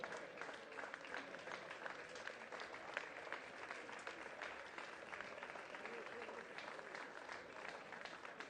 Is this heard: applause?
yes